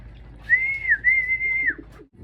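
A single racing pigeon gives a clear, sustained whistling call in two drawn-out phrases, close by, over faint background noise.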